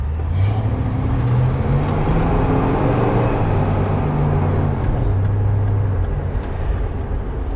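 A 1969 California Highway Patrol Dodge Polara with a 440 V8 cruising around town, steady low engine rumble and road noise filling the cabin, loud and continuous.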